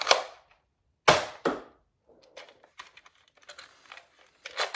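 Sharp snapping shots from a Nerf Elite Strongarm dart blaster, two loud cracks close together near the start followed by a run of lighter clicks and rattles of handling and cycling the mechanism, no speech.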